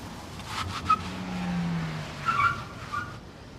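A car speeds and skids on a wet road in the rain, its tires letting out a drawn-out squeal over a steady motor rumble, with a few sharper screeches near the end.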